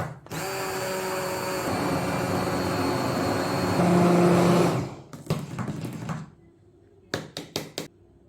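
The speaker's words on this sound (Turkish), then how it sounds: "3 dakika kadar blenderdan geçiriyoruz." A blender whirs steadily for about five seconds while mixing a milk pudding with a packet of vanilla and 50 grams of butter, its pitch rising briefly before it stops, followed by a few clattering knocks.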